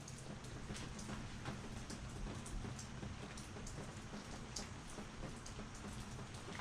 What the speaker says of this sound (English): Looks like it's raining again